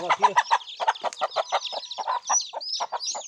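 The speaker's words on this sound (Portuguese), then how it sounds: "eu pego essa galinha aqui, ó" A hen on a rural Brazilian farm where chicks hatch out in the brush gives a run of close, rhythmic clucks, short repeated calls with a few higher squawks mixed in, loud and clear with no talking.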